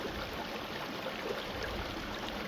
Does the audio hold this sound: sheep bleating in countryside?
no